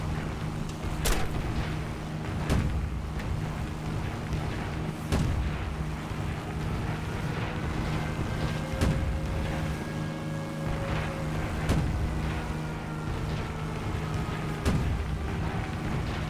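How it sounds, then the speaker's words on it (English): Heavy tank cannon shots in the video game War Thunder boom at irregular intervals, about a second or more apart, over a constant engine rumble and whine. "the cannon fire does not fire that fast"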